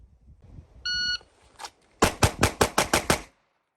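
Six rapid pistol shots ring out at a target with a SIG X-Macro or Glock 48, sharp, loud and evenly spaced in a quick string, preceded by a short electronic timer beep.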